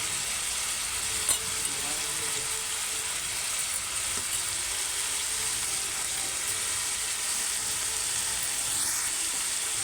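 Ridge gourd with turmeric fries in a pan for a paneer stir-fry. A steady, dense sizzle hisses throughout, broken only by a few faint spatula scrapes and taps.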